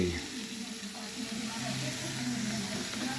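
Chopped onion fries in a pan with a steady, close hiss and sizzle that runs unbroken through the whole clip, with people talking in the background.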